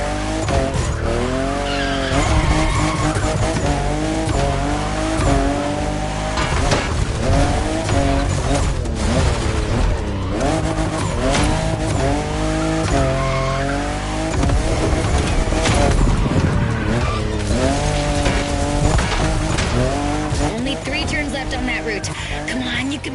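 Toyota GR Supra, fifth generation, drifting in The Crew Motorfest racing game: loud continuous engine with tire squeal sweeping up and down, with talk running over it throughout.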